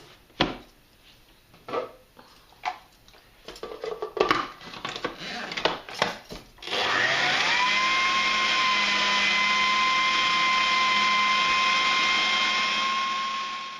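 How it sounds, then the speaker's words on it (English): Food processor beating lemon cake batter: a few clunks and taps of ingredients and utensils, then the motor starts and runs loud and steady with a constant whine, close by and uninterrupted. "Now I'm going to beat this all together for 2 minutes in the food processor."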